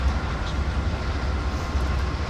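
A CN/IC locomotive in Train Simulator 2019 hauls a grain train over Marias Pass, giving a loud, steady low rumble of engine and rolling cars with no voices.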